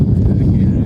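Gusty wind roars across the microphone outdoors at a high school softball field in Albert Lea, a dense low rumble that stays loud and steady through the short moment.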